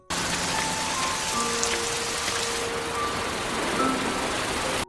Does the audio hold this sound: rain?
yes